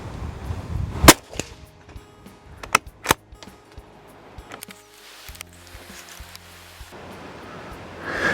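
Single sharp rifle shot from a long gun fitted with a Discovery HT 4-16x44 scope, fired at a 60-metre target outdoors, with a loud crack followed by a few fainter clicks and knocks.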